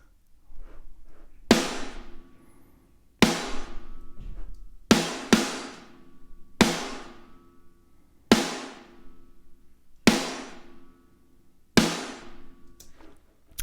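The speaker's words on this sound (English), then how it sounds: "that kind of high, ringy, mental sounding bin lid snare" Eight loud, ringing snare hits spaced about every second and a half, each with a long bright metallic decay, played alone with no talking.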